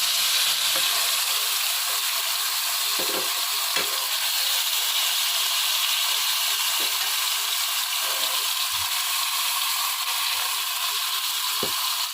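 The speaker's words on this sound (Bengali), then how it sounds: "তেল গরম হয়ে গিয়েছে, খুব বেশি একটা তেল দেইনি, কারণ আমি মাছেও আসলে সরিষার তেল দিয়ে মাখিয়েছি।" Fish coated in mustard oil fries in a pan of hot oil with a dense, even sizzle throughout, punctuated by occasional sharp clicks and taps; no voices.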